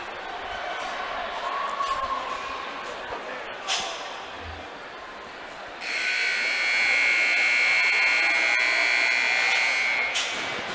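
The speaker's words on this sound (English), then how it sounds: "There's the buzzer." Horn buzzer at an ice rink during a high school boys hockey game going into overtime: one long, loud, steady blare lasting about four seconds over a murmuring crowd.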